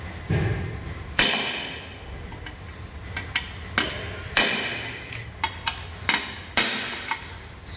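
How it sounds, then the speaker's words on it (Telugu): Repeated sharp metallic hammer strikes driving old rivets out of a lower control arm ball joint on a Ford Fiesta, a few loud close blows spaced a second or so apart with softer taps between, no talking. "ఆ రిబిట్స్ మొత్తాన్ని ఒకసారి హ్యామర్ తీసుకొని ఏదన్నా పాతది ఏదన్నా బోల్ట్ లాంటిది ఏదైనా తీసుకొని కొడితే మొత్తం అవి బయటికి వెళ్ళిపోతాయి అనమాట."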